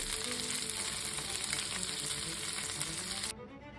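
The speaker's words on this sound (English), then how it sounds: "Gently place the cauliflower steaks on the skillet and make sure they are coated in butter." Cauliflower steaks sizzle in butter in a skillet, a steady, close frying hiss that holds evenly and then drops away sharply near the end.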